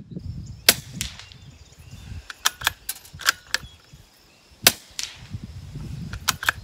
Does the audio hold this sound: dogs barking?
no